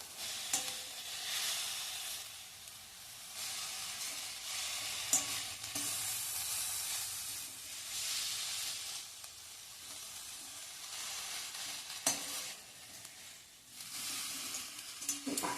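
Chopped dill greens sauté in a pan with a continuous hissing sizzle, broken by occasional scraping stirs and a few sharp clinks of the utensil against the pan, with no talking.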